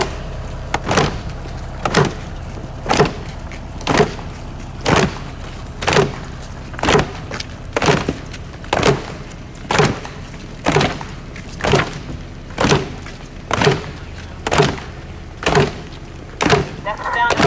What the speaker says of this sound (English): So, assist with my drum, my African drum.